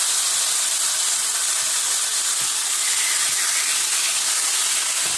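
A taco shell sizzles in a hot pan of posole for oxtail birria-style tacos, a steady close hiss and crackle of frying that holds evenly throughout with no talking.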